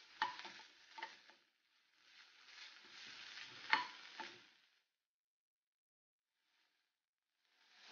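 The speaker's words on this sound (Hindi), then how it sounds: "add ginger garlic chilli paste, saute for 1 second" Ginger garlic chili paste sizzles in a wok, with soft frying hiss in bursts, a few light stirring taps, then near silence.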